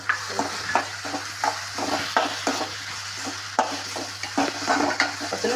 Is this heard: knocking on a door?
no